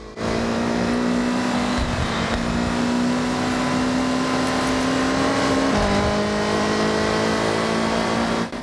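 Loud, sustained roar of a Toyota Altezza sports car engine revving in Forza Horizon 6, the pitch holding high and dipping briefly before climbing again.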